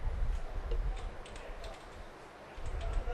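Keys tapped on a computer keyboard while entering an email address, a quick run of light clicks in bursts with brief pauses, close and alone.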